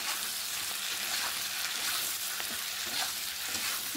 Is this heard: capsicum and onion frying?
yes